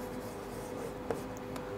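Writing on a board makes a faint, steady scratching with a small tap partway through, close and quiet and free of talk.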